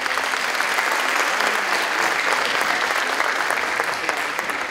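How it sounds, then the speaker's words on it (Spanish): Audience at a dance showcase breaks into loud, sustained applause, a steady dense wash of clapping filling the hall. "Un fuerte aplauso."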